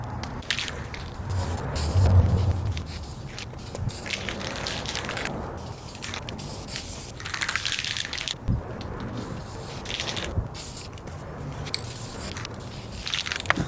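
A spray paint can hisses onto a 2019 Ram 1500 in a series of close, bursting sprays separated by short pauses, with rattling and handling noises in between.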